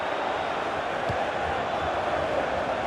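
Stadium crowd noise from the video game FIFA 15 during a Manchester City versus Manchester United match, a steady, dense murmur and cheer holding at an even level throughout with one brief thump.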